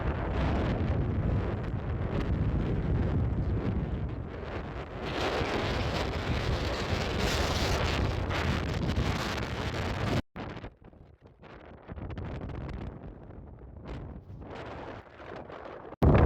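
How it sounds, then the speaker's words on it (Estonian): Strong mountain wind in Sarek National Park roars and buffets loudly against the microphone for about ten seconds, then drops off abruptly and returns in gusty bursts. "Ja hästi tugev tuul on"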